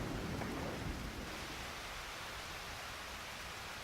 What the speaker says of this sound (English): Did you hear that? It's starting to thunder now,